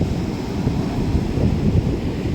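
Strong wind buffets Kovalam beach in Kerala during the rainy season, a steady low roar and rumble gusting across the microphone with no voices.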